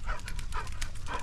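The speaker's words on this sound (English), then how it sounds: "So Kevin got a little bit too much for a small puppy" Puppies playing together, a quick run of close yips, whimpers and small barks over a busy, scuffling background, with no talk.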